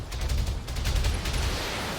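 UAC/2 autocannons fire in rapid, overlapping bursts within a BattleTech mech battle, a dense rattling barrage of booming shots that continues throughout with no voices.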